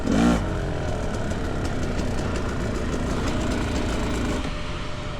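A Fantic XE300 dirt bike being ridden, its engine droning loud and steady close to the microphone with a rough, continuous mechanical roar throughout.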